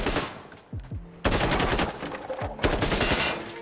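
Gunfire in Insurgency Sandstorm, two loud bursts of rapid automatic shots, each opening abruptly and running for over a second, close and punchy, with quieter movement sounds in the gaps between.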